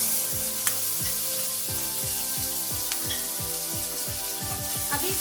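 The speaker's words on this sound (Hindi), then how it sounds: "अभी इसको मीडियम फ्लेम में हल्का सा ब्राउन होने तक फ्राई करेंगे।" Chopped onions and curry leaves frying in hot oil over a medium flame, a soft steady sizzle up close with occasional stirring scrapes and clicks, no one speaking.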